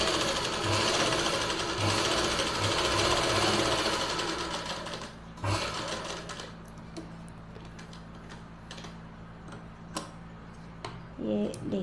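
Sewing machine stitching dhoti salwar fabric along a cut corner, a steady rapid mechanical whir that runs loudly for several seconds, then stops and gives way to softer handling clicks and rustles.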